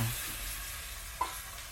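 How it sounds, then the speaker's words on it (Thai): Pork bones are stir-fried with curry paste over low heat for an Isan pork bone curry, making a quiet, steady sizzle with one small scrape partway through and no speech. "แล้วผัดกระดูกหมูกับพริกแกงของเรานะคะ"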